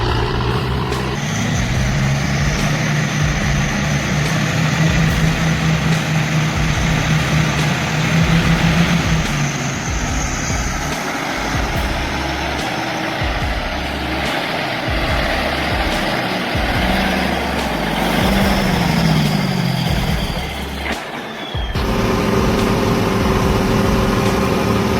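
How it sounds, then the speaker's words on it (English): Large log trucks hauling timber rumble steadily with deep engine drone, gear and revving shifts, and a brief dip before the heavy engine noise resumes, loud and close throughout. "Check out these dirty South log trucks."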